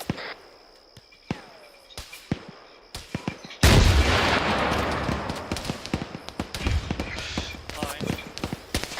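A rocket launcher fires during squad training, with one loud, close blast that rolls off into a long fading rumble, after scattered sharp clicks and knocks.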